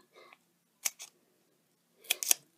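Scissors snip off bits of adhesive dimensionals in a few quick, close cuts, two paired snips then another pair after a pause, with a faint murmur of voice at the start.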